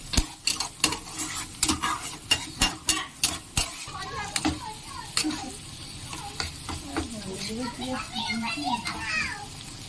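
Spice masala for paneer masala being stirred and fried in a pan, with a rapid series of sharp spoon-on-pan scrapes and knocks over a light sizzle, followed by someone talking over the cooking.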